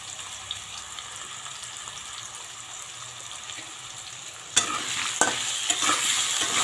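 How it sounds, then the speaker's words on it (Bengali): Stirring in a pan of thin local katla fish curry after salt and turmeric powder go in, quiet at first, then a sudden burst of louder scraping and sizzling clatter for the last couple of seconds. "নেড়ে নেব, নেড়ে নিয়ে ঢাকা দিয়ে দেবো।"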